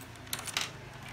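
A handheld hook tool gives two quick, faint clicks about a quarter second apart as it is operated, over a quiet background hiss.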